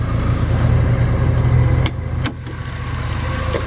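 A 1985.5 Porsche 944 with a 2.5 liter 4-cylinder engine idles steadily and close by, a smooth even hum that drops slightly in level partway through, with no talking over it.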